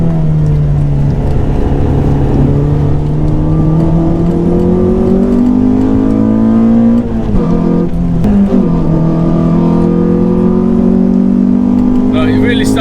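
Loud, close engine note of a Renault Clio 182 climbing steadily in pitch as it revs hard, briefly dipping around a gear change before pulling up again toward the rev limiter.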